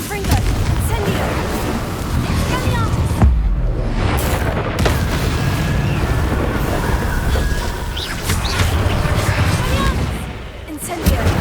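Repeated fiery spell blasts from Confringo and Incendio in Hogwarts Legacy, heavy booming bursts layered over a dense, continuous roar of combat noise with no pauses.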